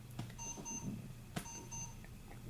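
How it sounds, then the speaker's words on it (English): A camera giving off quiet electronic beeps, thin repeated tones in short groups over a low room hum, with a couple of soft clicks between them. "It sounds like you're beeping. Nope. That's the camera."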